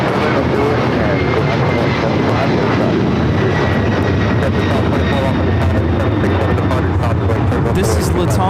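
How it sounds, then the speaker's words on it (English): A LATAM Airlines Boeing 767-300ER takes off at LAX, its jet engines producing a loud, continuous, broadband roar that holds steady throughout, with voices faintly present. "This is Latam Airlines 2479 taking off to Lima, Peru on the 767 300ER."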